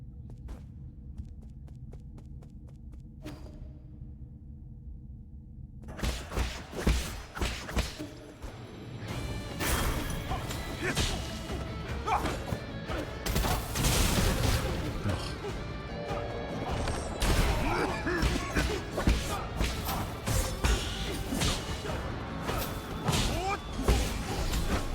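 Bombs bursting in the action game Nine Sols, sharp crashing blasts and thwacks arriving in rapid irregular clusters over combat whooshes and hum, loud and busy after a quieter opening with sparse impacts.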